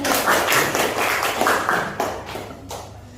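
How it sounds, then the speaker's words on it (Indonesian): Schoolchildren clap together in a classroom lesson, a burst of several loud rhythmic claps in unison that repeat a few times and then fade. "Anak-anak tepuk tangan dulu."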